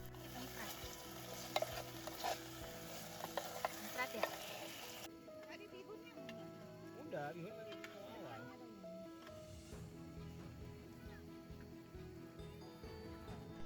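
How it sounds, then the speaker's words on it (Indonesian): Instant spice paste and extra spices sautéing in a pan at an outdoor mountain camp, a steady broadband sizzle with stirring scrapes running throughout, overlaid with background music and talk. "Bumbu instannya ditumis terlebih dahulu, sembari ditambahkan rempah-rempah lainnya."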